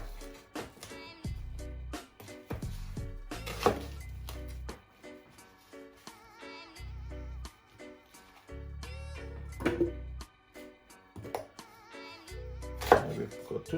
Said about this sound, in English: So I'm just gonna cut the onion roughly.